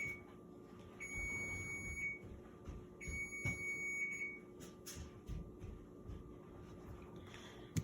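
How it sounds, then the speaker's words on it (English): An oven timer beeps in two bursts of steady high tones, each lasting about a second, then repeats more briefly, faint against a low room hum. "That was the timer on my oven."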